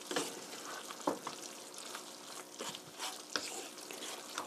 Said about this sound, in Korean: 자, 고루 섞어주세요.